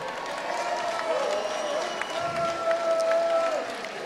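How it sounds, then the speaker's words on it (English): At a boxing event, the audience applauds the fighters with steady, moderately distant clapping and crowd noise, while a voice carries on over the top. "how about a round of applause for these men going the distance tonight?"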